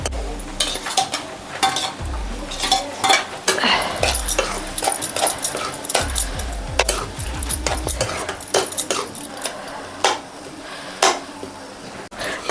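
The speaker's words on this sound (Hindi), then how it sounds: "अभी आलू को भी मसाले जो टमाटर काली मिर्च उर्च ना, इनके साथ में 5 मिनट तक स्लो आंच में थोड़ा भून लेते हैं" Cut potatoes stirred with tomato, black pepper and spices in a pan over a low flame, with a metal spoon repeatedly scraping and clinking against the pan in an irregular rhythm and a soft sizzle underneath.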